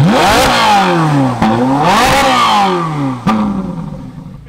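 A Ferrari 458 Italia engine with exhaust valves open revs hard three times, each blip climbing sharply and then falling away, with a crackling rasp as it settles.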